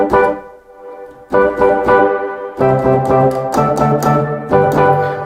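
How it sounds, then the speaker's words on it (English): Nord Rhodes electric piano samples played with reverb switched on: three phrases of warm chords with bell-like overtones, each ringing and trailing off into a soft wash, close and alone. "It sounds like this if I turn the reverb on."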